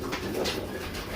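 A banded pigeon, wearing a red clip ring, coos in a low, continuous murmur at close range, alone without talk.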